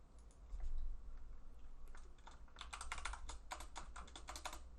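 Quiet rapid clicking of computer keys as a review comment is typed, irregular bursts of keystrokes growing denser toward the end, with no talk.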